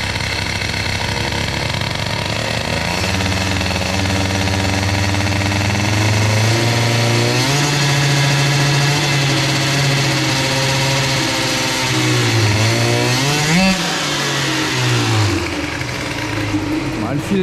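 A Bidalot RF 50 WR moped's small engine runs close and loud, its pitch rising and falling through several revs and throttle changes, with speech over it.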